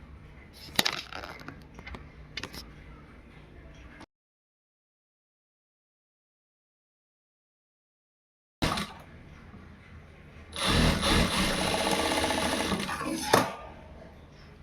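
A sewing machine stitches down a half-inch folded hem on joined fabric pieces for piping, running in a steady whirring burst near the end after a silent gap, with earlier clatter of handling.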